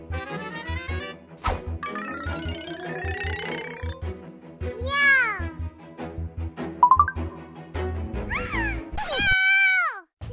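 A child mimics a cat's meow, producing a few rising and falling voiced meows over a busy, bouncy musical background, with brief talk between them.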